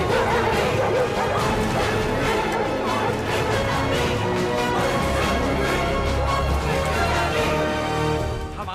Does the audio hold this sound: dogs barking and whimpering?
yes